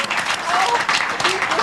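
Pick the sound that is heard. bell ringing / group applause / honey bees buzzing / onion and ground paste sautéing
group applause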